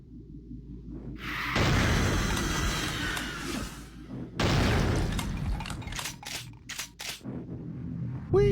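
Bursts of synthetic explosions and whooshing blasts from the video game Project Slipgate with Brutal Mod, loud and close, with sharp crackling hits toward the end.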